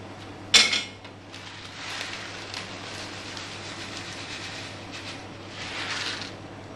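A sharp metallic clank, then a steady scraping and clinking of a utensil stirring pasta in salted boiling water inside a metal pot, over a low constant hum.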